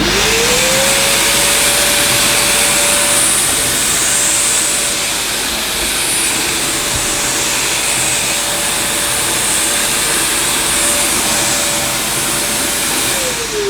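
Maytag Satellite floating vacuum cleaner running with its hose fitted on the inlet, a steady loud whine and broadband rush held at an even level, motor pitch rising briefly at start and staying constant throughout.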